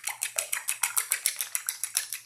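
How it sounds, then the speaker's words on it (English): Eggs whisked in a bowl for scrambled eggs, a fast steady run of bright metallic clinks and scrapes, about six strokes a second, close up and with no talking. "Now when I think I'm done whisking the eggs"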